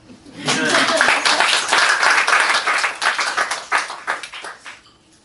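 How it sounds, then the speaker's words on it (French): An audience at a lecture-style performance claps and applauds, building quickly to a dense burst and then thinning into scattered claps before fading out. "Vous pouvez applaudir."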